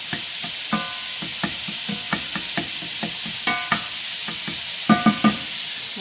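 Sausage fries in a pan with a constant bright sizzle, while a utensil scrapes and stirs in repeated short strokes close by.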